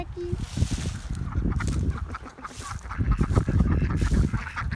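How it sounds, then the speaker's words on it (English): A flock of ducks quacks and honks continuously, loud and close, with overlapping calls forming a busy, chattering chorus. "You know that ducks laugh when they're happy?"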